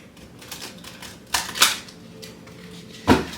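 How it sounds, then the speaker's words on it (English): Tarot cards being shuffled by hand, several short crisp riffling bursts and taps close to the microphone with quiet gaps between them, no talking. "Okay, one last shuffle."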